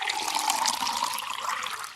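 Warm soapy water pours steadily into a large wooden basin, a continuous close splashing rush with no voices.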